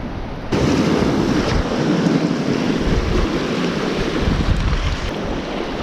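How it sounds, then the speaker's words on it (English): Wind gusts hard across a coastal spot during UK bass lure fishing, a loud steady roar with microphone buffeting and surf washing underneath, rising abruptly after a quieter half second and holding throughout with no talk. "Now I'm fishing into a bit of a crosswind in this area."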